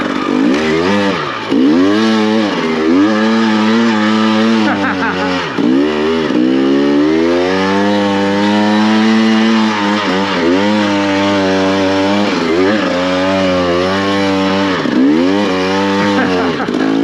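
A dirt motorcycle revs hard through a tight wash and deep desert sand, its loud engine rising and falling in repeated throttle surges and drops, close up and dominant, with a voice briefly over it.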